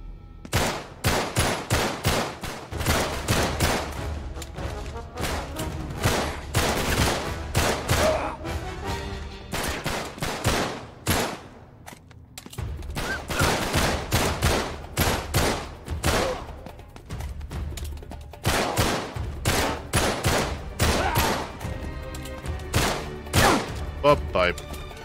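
Bursts of rapid gunfire from Uncharted 3: Drake's Deception, played on PS5, rattle through a sustained firefight in repeated clusters of shots, loud and close, with speech mixed in at points.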